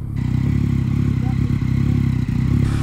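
Yamaha MT-09 motorcycle engine idling on its first start with an Akrapovič exhaust, a loud steady low rumble that stays constant and close throughout.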